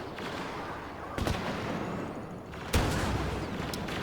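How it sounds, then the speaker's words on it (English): Explosion in a competitive video game match at a 2020 world championship, heard as two sharp booming blasts about a second and a half apart over steady game noise, each leaving a brief roaring tail. "What an explosion."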